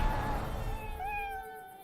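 A cat meows once in a long, wavering drawn-out call, heard over game background noise in the online role-playing game Lord of the Rings Online.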